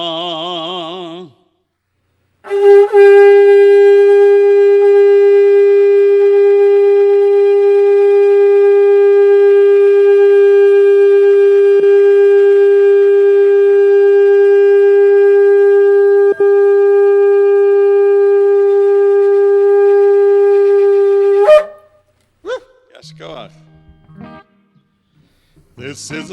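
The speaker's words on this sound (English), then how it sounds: "This is the sound of the shofar." A shofar sounds during a Rosh Hashanah family service: one long, loud, steady sustained blast holding a single buzzy tone for about nineteen seconds, followed by a few short broken notes and brief voices.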